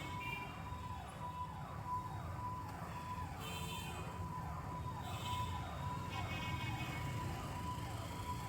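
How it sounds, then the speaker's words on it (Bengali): An ambulance siren wails behind a motorcycle in Indian traffic, its repeated rising-and-falling sweeps fairly faint under steady engine and road rumble. "পিছনে অ্যাম্বুলেন্স আছে"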